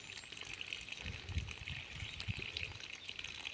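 Water gushes from a hose into dug basins around chikoo and mango trees in a farm plot, a faint steady splashing trickle with a few soft thumps, no talk.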